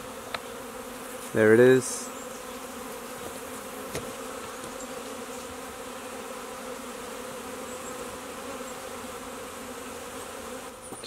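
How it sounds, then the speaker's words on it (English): A swarm of bees clusters on a cut-down tree and fills the air with a continuous, even buzzing from start to end. Someone speaks briefly near the start. "We've got our swarm now much lower, much more manageable."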